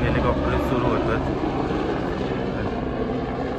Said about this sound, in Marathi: सकाळी 5:30 वाजल्यापासून हेलिकॉप्टर सुरू होतं.